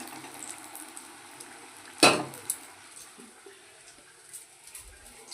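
Fresh yellow pumpkin fritters fry in a small amount of oil, giving a soft, steady sizzle throughout, broken by one sharp clatter of a utensil midway and a few lighter taps after, with no talk.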